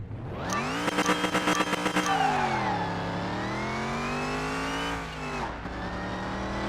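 A car in Car Mechanic Simulator 2021 held on a line lock, its engine throttling up in a steady loud roar that climbs and sags in pitch, with a choppy pulsing start and a brief dip before rising again.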